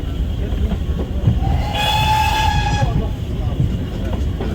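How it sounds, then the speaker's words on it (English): A Dartmouth Steam Railway train rumbles past with a loud, steady rolling roar and the clack of wheels, its whistle sounding once for about a second midway, close by outdoors. "Everyone stands and watches the train as it goes by."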